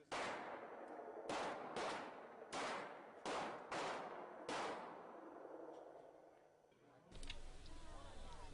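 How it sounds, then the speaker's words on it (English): Glock semi-automatic pistols fire on an indoor range, a series of about seven sharp, echoing shots at irregular intervals, followed by a clatter of handling noise. "Training began with the handling, loading, and firing of Glock semi-automatic pistols."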